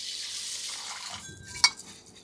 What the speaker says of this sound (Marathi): ते स्वच्छ धुवून घ्यायचे, का भांड्यामध्ये ओतायचे.